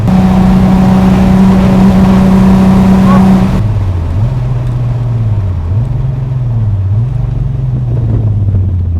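A 2004 Nissan 350z hums loudly from inside the cabin as it drives, its engine note holding steady, then dropping after a gear change and rising and falling with the throttle.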